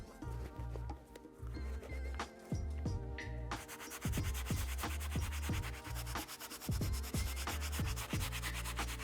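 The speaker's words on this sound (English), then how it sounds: "I'm really scrubbing on the inside to help get all this trapped in dirt out." A brush scrubs the inside of translucent mesh on a Salomon sneaker, rapid rhythmic scratchy strokes continuing close by, growing brisker halfway through.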